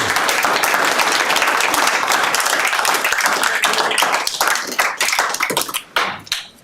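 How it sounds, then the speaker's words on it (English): Audience applause at a Pocatello city council meeting, loud and dense clapping from a crowd that fills the room steadily before thinning into scattered claps and fading near the end. "we don't need to applause everything when it's said"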